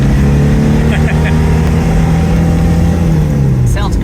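A Porsche 914 Chalon engine accelerating loudly and steadily through a corner, its rising drone filling the whole stretch.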